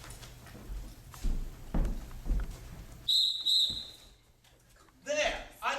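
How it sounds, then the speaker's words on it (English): A sporting whistle gives a sharp, shrill blast amid a street scene with horse hooves clip-clopping and people talking, the tone cutting through the bustle before more voices follow. "That ain't no police whistle. That's a sporting whistle."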